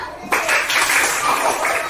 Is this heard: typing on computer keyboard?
no